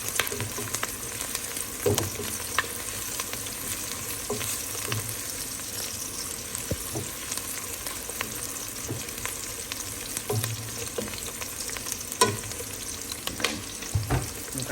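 Potatoes and carrots fry for chicken menudo in a constant, close sizzle, with occasional stirring knocks against the pan and no talking.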